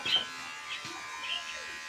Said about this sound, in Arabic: عمو الحلاق محمود الكينج عم بحلو له